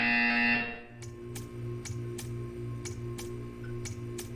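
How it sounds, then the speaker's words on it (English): A Portal 2 buzzer tone cuts off after a moment, then a steady ticking pulse repeats about twice a second over a low electronic hum in the game's test chamber. "You will hear a buzzer."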